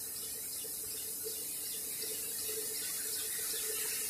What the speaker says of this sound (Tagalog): Saan kaya galing yung tubig?